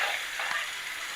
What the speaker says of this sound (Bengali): নিয়ে এই আলুটাকে ভেজে নেব।